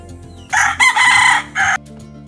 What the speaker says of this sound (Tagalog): Yan yung mga alaga kong manok.